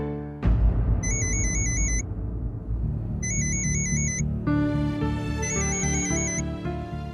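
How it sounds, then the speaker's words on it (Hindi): A phone rings in repeated trilling bursts over a loud musical background, the electronic chirps returning in short patterned groups. "किसका फोन है?"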